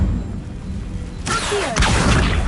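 Incendio fire spell cast in Hogwarts Legacy, a whooshing burst of flame that swells abruptly and then roars louder, close and with no talk over it.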